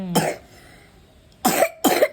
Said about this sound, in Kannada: ಕೆಮ್ಮು ಕಮ್ಮಿ ಆಗ್ತಿಲ್ಲ